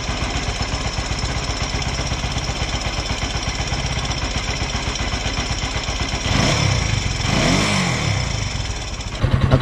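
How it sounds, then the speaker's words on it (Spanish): A Vortex 250 motorcycle engine idles close by with a steady, fast thumping putter, briefly swelling louder near the end, no one speaking. "Aquí tenemos el motor y suena bien diferente a la 200."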